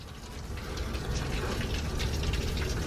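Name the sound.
heavy pouring rain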